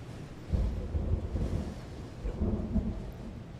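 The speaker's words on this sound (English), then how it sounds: "Why does it sound like a storm with thunder?" A storm in the video game Slay the Princess, low rumbling thunder with wind and rain, a continuous dull roar swelling in two broad surges.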